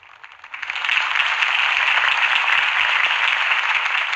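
Crowd applause swells up after a political campaign speech in Batman: The Telltale Series, then holds as a steady, dense wash of clapping with no voices over it.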